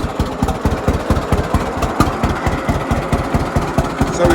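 Vintage tractor engine idling on a farm tractor line-up day, a steady, loud, close chugging with even rapid pulses throughout.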